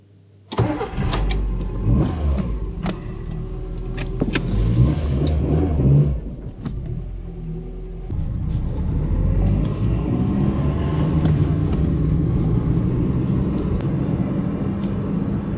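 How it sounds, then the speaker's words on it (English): A Nissan Micra K11 small hatchback starts with a sharp crank and then idles steadily on a freshly fitted exhaust system, a close, even engine rumble that carries on alone after a brief dip. "So the Nissan Micra got some new oil in it and a new exhaust system, so now it doesn't sound like an old, worn out car"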